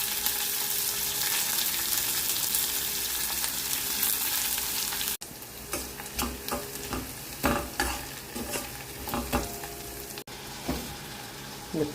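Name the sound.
mustard seeds spluttering in hot oil with curry leaves, ginger, garlic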